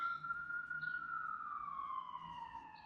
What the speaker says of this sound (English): I'm pretty sure you could probably still hear that siren